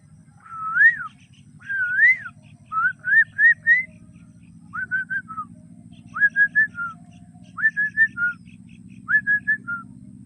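A man whistles an imitation of the koel bird's call, clear rising phrases repeated in short groups, close and distinct over a low steady background hum.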